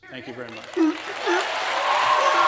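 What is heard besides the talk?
audience applauding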